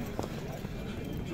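At a horse market in Bishkek, hooves clip-clop in a few quick, close steps on hard ground, partly under someone talking.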